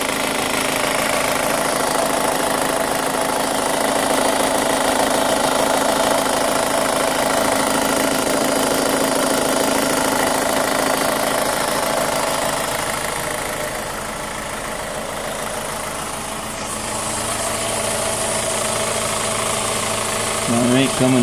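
A 2005 Chevy Cobalt LS 2.2L engine idles steadily with a cylinder 4 misfire, a continuous mid-pitched drone with a faint uneven knock, near and loud, with a quieter dip before it picks back up.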